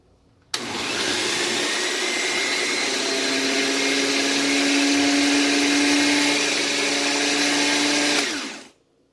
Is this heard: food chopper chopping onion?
yes